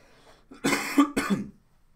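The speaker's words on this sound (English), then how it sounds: "So I got this like kind of a stupid lingering cough" A person who is still recovering from an illness gives a lingering cough: two or three close, hoarse bursts in about a second, heard nearby with nothing else over them.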